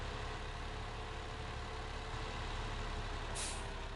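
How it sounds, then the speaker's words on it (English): A big truck in Farming Simulator 2015 rolls along with a steady engine drone, and near the end there's a short sharp hiss as its air brakes release. "I'll just apply some brakes going down here."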